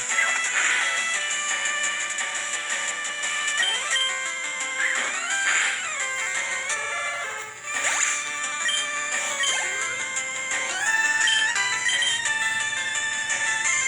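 A phone ringtone plays continuously for about fourteen seconds, a loud and steady electronic melody of bright repeating tones with no talking over it.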